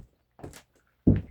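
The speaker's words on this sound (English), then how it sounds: "Probably should close my door." A door swings shut near a barn, a brief rustle and shuffle followed by a single solid thunk as it closes, close and short with no talk.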